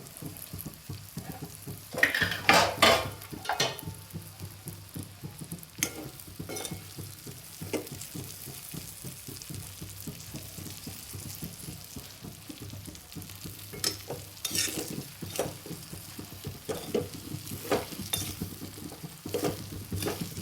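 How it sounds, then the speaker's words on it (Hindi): Okra frying in oil in a pan sizzles steadily while a utensil stirs it, with scraping clatters at intervals and no talking. "आपली भेंडी सगळी टाकून घेऊन झालेली आहे तेलामध्ये आता मी याला फिरून घेते थोडंसं हलकसं"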